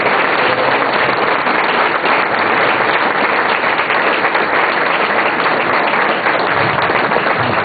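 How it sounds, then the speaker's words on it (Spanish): Applause for the lay members, adults and young people, at a Teresian gathering: loud, sustained clapping from a large crowd, even and unbroken throughout. "Un aplauso para todos ellos."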